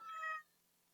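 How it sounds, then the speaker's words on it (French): A cat gives a single short, clear meow, close and fairly quiet, followed by near silence. "Et votre chat est tellement adorable."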